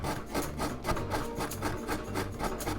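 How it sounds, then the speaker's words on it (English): A carrot rubbed against a box grater in repeated strokes, a steady rhythmic rasping scrape that stays close and fairly loud throughout with no talking, while vegetables are grated for courgette fritters. "Grate the carrot."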